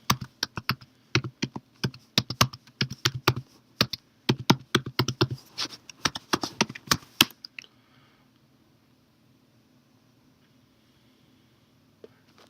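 Rapid keystrokes on a computer keyboard enter an encryption passphrase at a Linux terminal, a close, uneven burst of clicks for about seven seconds, then near silence with one late tap.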